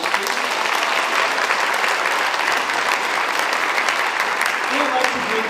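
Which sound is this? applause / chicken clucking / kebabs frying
applause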